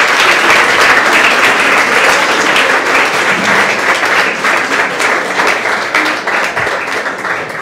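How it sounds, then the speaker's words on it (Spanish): Loud, steady applause from a church congregation during Mass on the feast of the Christ Child, a thick wash of many hands that tapers slightly toward the end. "Vamos a darle un fuerte aplauso al niño Jesús."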